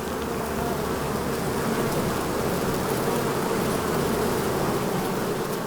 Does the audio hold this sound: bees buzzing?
yes